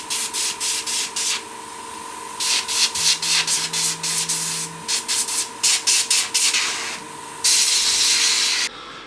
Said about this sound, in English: Just blowing the area with air, forcing the kind of isopropyl alcohol to kind of evaporate off and move out